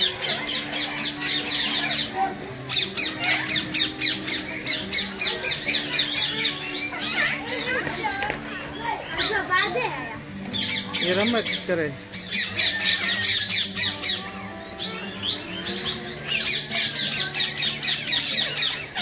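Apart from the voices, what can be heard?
hill parrots squawking at Junagadh zoo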